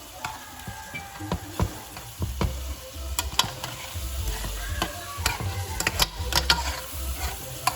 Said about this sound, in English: you want to stir the beans with the seasoning to make sure that the seasoning gets all in it